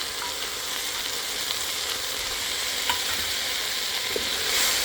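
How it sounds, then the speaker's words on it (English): Celery, carrots, bell pepper, onion and garlic sauteing in olive oil, with a soft continuous sizzle and faint occasional stirring clicks, close by but gentle, no voices. "I start by sauteing my celery, carrots, bell pepper, and onion in a tablespoon of olive oil."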